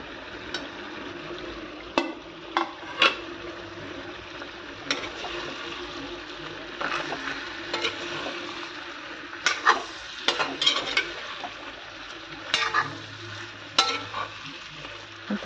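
Cut potatoes fry in a hot pan of gravy in a home kitchen, a soft continuous sizzle broken by repeated sharp scrapes and clinks of a spoon stirring, close and without speech.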